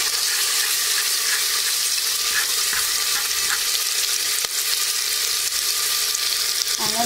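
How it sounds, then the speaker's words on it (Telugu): Ginger-garlic paste, onion paste and chicken marinade fry in a pressure cooker for biryani, giving a continuous loud sizzle with faint scraping ticks throughout and no talking. "ఇప్పుడు దీనిలో కొద్దిగా వేసి వేయించుకుంటున్నాం"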